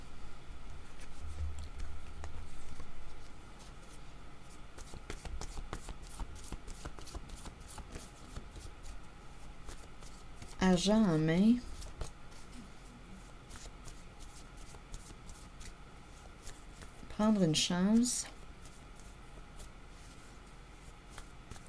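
Cards are shuffled and drawn for a card reading, a soft, steady riffling patter through most of the stretch, with two brief sharper swishes midway and near the end while someone speaks French.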